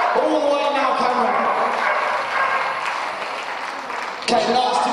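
A crowd at a dog agility steeplechase final cheers and applauds steadily, with an announcer talking over the noise.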